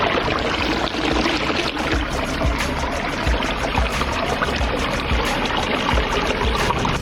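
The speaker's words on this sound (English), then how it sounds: "So how do you enjoy the water feature?" Water from a backyard pond feature trickles and pours steadily over rocks set to form an echo chamber, a continuous close splashing flow with no voices.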